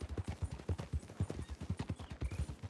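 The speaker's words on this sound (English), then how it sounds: "I hear horses." Horses clip-clop at a brisk, steady rhythm in Red Dead Redemption 2 roleplay, several hooves overlapping in quick thuds, fairly close and loud.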